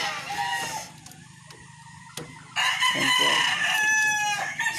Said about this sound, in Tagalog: Ito po yung sisiwa boss na inalagaan ngayon.